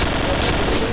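Gunfire in the shooter game Point Blank, a loud dense burst of rapid shots blurring into one continuous roar, close and harsh.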